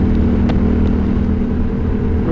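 A Honda Rebel 1100 motorcycle fitted with a batwing touring screen cruises at about 85 mph, giving a steady, loud engine rumble blended with continuous rushing wind noise and no break.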